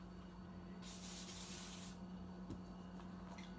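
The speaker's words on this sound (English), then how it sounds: "Might be a good idea just to spray some of this" A single hissing burst of gun cleaner sprayed onto a rag while cleaning a semi-automatic or pump-action shotgun, about a second long, close and loud against a low steady hum, followed by faint rubbing and clicks.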